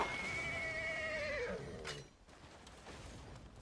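In a video game, a horse gives a clear, fairly loud whinny with a falling pitch that breaks off abruptly, followed by a short impact and then quieter background sound.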